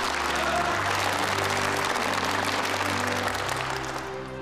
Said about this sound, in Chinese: 首先，我们以热烈的掌声欢迎吕首长来参加我们的现场会。